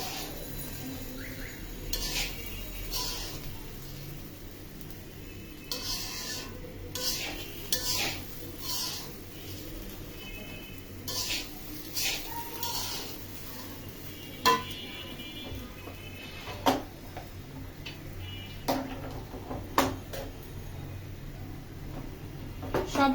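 Spices and rice for khichuri being stirred and fried in a pot, with scattered metallic scrapes and clinks of a utensil against the pan over a low background.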